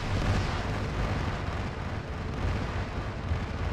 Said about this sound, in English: Those explosions do damage every time you hear them.